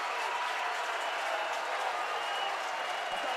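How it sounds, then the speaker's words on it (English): Crowd roaring and applauding at a 2023 Sheffield Eagles home rugby league finals game, a dense, steady wash of cheering and clapping throughout with no let-up. "And listen to the crowd."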